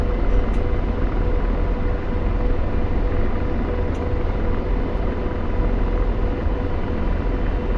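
An Apache helicopter in the DCS flight simulator drones along as a dense, steady broadband rumble and roar with no clear breaks, loud and unchanging throughout.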